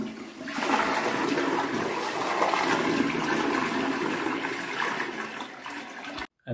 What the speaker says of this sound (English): You can flush the chain, push it down, you know, wait for the system to fill back up again